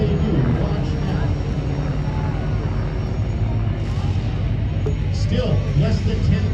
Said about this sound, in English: The 2 aircraft will pitch up and away.